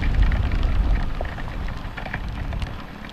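Heavy rain pours steadily on a road during a motorcycle ride through a storm, a dense continuous hiss with a low rumble underneath and no voices.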